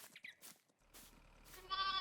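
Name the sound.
sheep bleating in video game Farming Simulator 22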